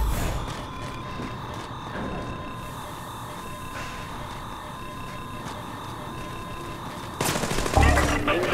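Gunfire in the Splinter Cell Blacklist video game, a steady stream of shots running under a continuous electronic game hum, ending in a louder burst near the close.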